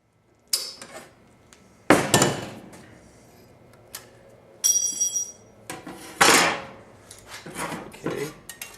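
Sheet metal for a rocket stove being cut, heard as sharp metallic snips, clanks and scraping bursts spaced irregularly between quiet gaps, close up with no talking.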